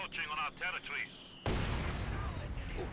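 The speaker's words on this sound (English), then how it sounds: "Got explosions going off here in the west." Explosions and gunfire sound out in a Company of Heroes 2 real-time strategy battle. After a short stretch of chirpy game sounds, a loud, sustained roar of blasts begins.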